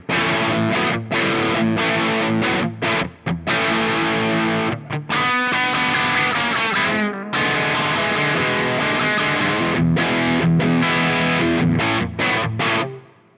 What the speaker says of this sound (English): we'll put a little bit of modulation into that reverb.